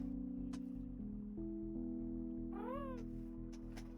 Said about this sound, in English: Oh, you purring up storm